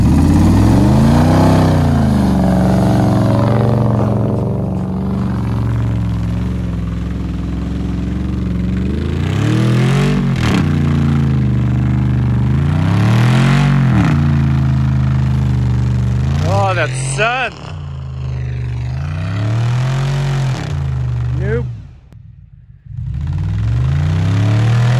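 A car engine revs in repeated rising surges while driving on slashed tires through deep snow, loud and close, with people talking over it and a brief sharp dropout near the end.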